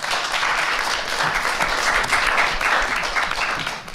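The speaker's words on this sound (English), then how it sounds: "I think the observers deserve to give themselves a rousing round of applause" Sustained applause from an audience at a preliminary findings briefing of an election assessment mission, steady dense clapping holding level throughout with no voices over it.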